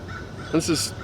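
A couple of harsh caws ring out from a bird over a soft, continuous outdoor background hum.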